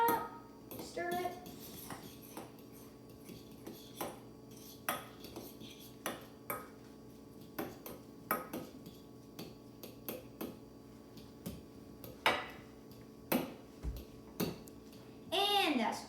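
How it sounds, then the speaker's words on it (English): Metal utensil clinking and scraping in a bowl as cooked egg yolks are mashed and stirred with mayonnaise for deviled eggs, a series of close, sharp taps at irregular intervals with a voice speaking at the start and end. "And we mash that up. Stir it."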